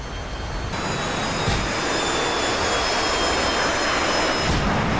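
Jet fighter engine roaring in the DCS World flight game during an F-15S/MTD versus F-22 dogfight, a loud steady whine and rumble that holds unbroken throughout with a thin high tone above.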